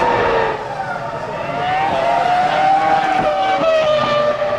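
Formula 1 race cars at the 2003 Australian Grand Prix: a loud, sustained engine whine rising and shifting in pitch as cars scream past close by, with a commentator's voice faintly underneath.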